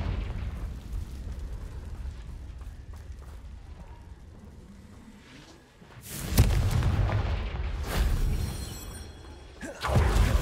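Confringo spell blasts in Hogwarts Legacy during Merlin's Trials: loud booming explosions with rumbling bursts, first over a steady game ambience, then two big detonations near the end, no talking.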